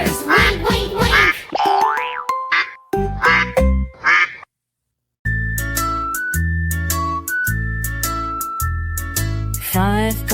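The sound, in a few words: cartoon duck quacking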